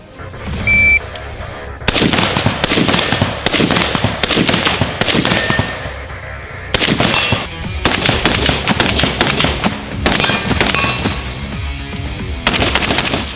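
An MK60 Mod Zero machine gun fires in loud, rapid bursts separated by brief pauses, each burst a dense crackling stream of shots ringing out close by.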